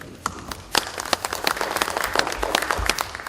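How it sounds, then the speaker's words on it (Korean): Applause from party members at a national assembly caucus meeting, a dense patter of many hands clapping steadily and fairly loud throughout, with no voices over it. "박수 부탁드립니다"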